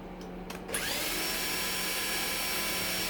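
A power tool, likely a drill or impact driver, whirs steadily and close while unscrewing bolts during a pressure washer teardown, starting after a few brief bursts and then running continuously.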